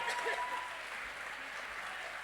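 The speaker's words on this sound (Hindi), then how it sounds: "भरपूर तालियां दे भाई मुमताज जी को।" Faint, steady applause from an audience honouring poet Mumtaz Naseem at a ghazal recital in Banaras, a soft, even wash of clapping that holds for about two seconds without individual claps standing out.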